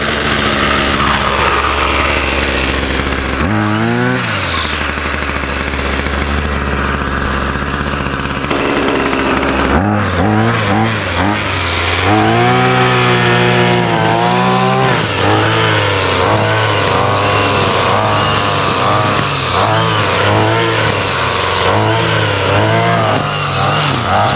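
A Ryobi 2-stroke weed eater with a newly replaced carburetor idles steadily nearby, its small engine buzzing continuously, with some wavering pitch changes partway through as it runs on its own without talk.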